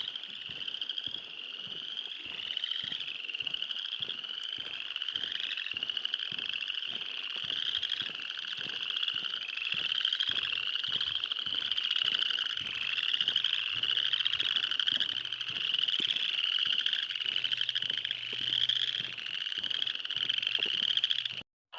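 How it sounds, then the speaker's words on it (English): A dense chorus of frogs croaks loudly and continuously, with rapid pulsing calls layered over each other and a faint low hum in the background. "especially over those loud-ass frogs"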